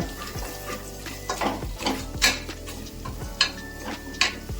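Ground masala spices frying in oil for Karnataka-style tomato rice, stirred with a utensil: a steady low sizzle broken by repeated scraping strokes and light metallic clinks against the pan, close and alone with no talk.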